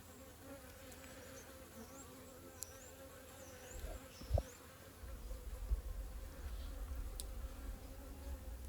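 Honey bees buzz steadily around an open mini nucleus hive during a winter inspection, a low continuous hum with a few brief louder passes close by, and no talking.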